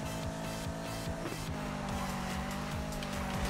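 A Corvette engine roars in Need for Speed 2015, revving in repeated pulls while the tires squeal and skid loudly and continuously.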